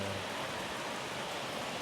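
Steady rain falls at night during a rainy-season trip in northern Thailand, an even, close hiss of drops with no voices.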